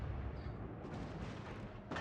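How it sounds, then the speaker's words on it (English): HE shell salvos fired from a warship's guns in World of Warships Legends, a dense continuous rumble of booming gunfire with a louder burst near the end. "And we'll take him out with the HE."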